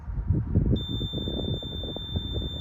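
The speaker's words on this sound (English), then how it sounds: "We're at a moderate alert level, so the alarm will stay on for a little longer." A UAS Sentry Remote ID receiver sounds its drone alert alarm at a moderate alert level: after a brief pause a steady, piercing high-pitched electronic tone switches on and holds continuously over rumbling outdoor background noise.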